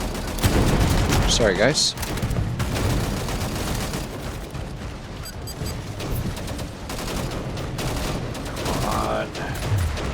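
Sustained turret fire in the sci-fi combat game Angels Fall First, a loud dense rattle of rapid shots with booming impacts running the whole stretch, someone talking briefly over the barrage.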